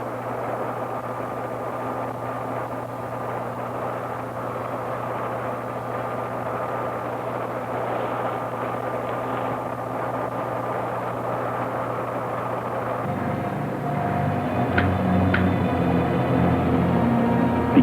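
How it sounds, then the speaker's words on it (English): A sci-fi rocket ship blasts off with a long, steady roaring rumble like a jet engine. It swells in loudness and thickens in tone near the end, with no voices over it. "Ready for blast-off."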